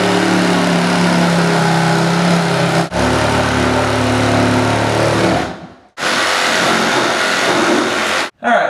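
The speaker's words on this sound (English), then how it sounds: "Now I'm going to use a sawzall to clean up the edges." Sawzall cutting the edges of a plywood subfloor during a rotted floor repair, a loud continuous reciprocating buzz in long bursts, stopping briefly twice, close up.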